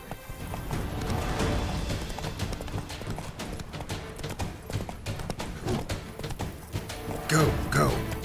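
Roach, the horse in the video game The Witcher 3, gallops in a rapid, continuous clip-clop of hooves during a knights' tournament course, ending with a loud neigh and whinny over background game music and voices.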